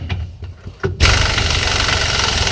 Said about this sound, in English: Now we got a 3/4 inch impact earthquake gun hooked to a 1/2 inch